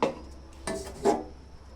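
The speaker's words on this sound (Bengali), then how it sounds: "এখন ঢাকনা দিয়ে দেবো" A lid is set onto a cooking pot (kadai), giving a metallic clank at the start and two short scraping rattles as it settles, fairly close in a quiet kitchen.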